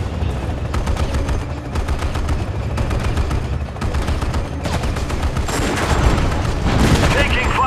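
Rapid, continuous machine-gun and rifle fire from a modern military battle in Act of War: Direct Action, loud and dense with clustered bursts and heavier booms, building slightly toward the end.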